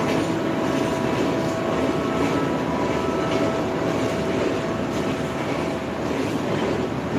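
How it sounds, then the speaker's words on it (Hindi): A train passes by with a steady, continuous rumble and roar that holds at the same level throughout, with no one speaking. "बस 2 मिनट चला गया ट्रेन"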